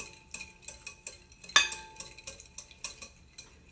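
A whisk beats an emulsified dressing in a bowl, giving quick, evenly spaced metallic clinks about three per second, close and crisp, with one sharper ringing hit partway through.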